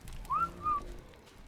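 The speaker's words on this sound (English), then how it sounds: "I need to actually whistle all these guys on the passive." Short two-note whistle command to tamed creatures in the survival video game ARK, a rising tone followed by a level one, clear and close over faint background hum.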